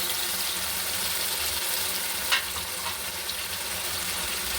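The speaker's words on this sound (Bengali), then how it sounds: "এবারে খুব ভালো করে আমি নেড়ে করে কষিয়ে নেব" Chicken and tomato stir-fry in a hot pan with a steady, close sizzle and a brief scrape of stirring partway through, with no voices.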